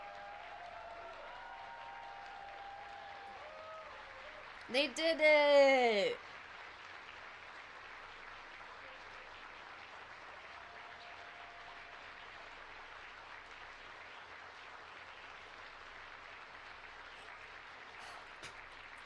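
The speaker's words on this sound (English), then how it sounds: "Stop clapping, it's making me cry." Applause and cheering burst out at a watch party for the Artemis II landing broadcast, a loud dense roar lasting about a second, with people talking before and a steady background hum after.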